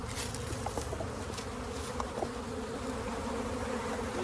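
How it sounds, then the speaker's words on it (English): A honeybee swarm forms at a hive, a dense, continuous buzzing hum from many bees close by, steady and loud with no talk. "I think we have a swarm forming."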